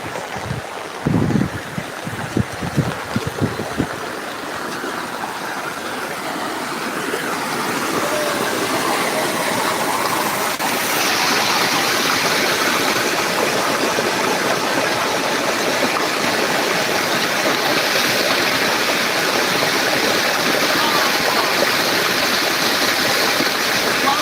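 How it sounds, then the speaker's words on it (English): Steady roar of rushing, dirty floodwater from heavy rain fills the scene, a broad continuous torrent after a few brief knocks at the start, loud and close. "This is way more like a flood."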